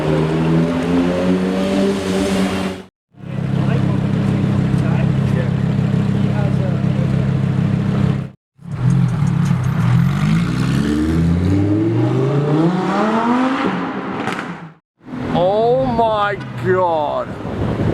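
Straight-piped Lamborghini Murcielago LP640 V12 engines rev loudly in repeated bursts, rising and falling in pitch with brief silent gaps between takes, close and harsh with wind buffeting.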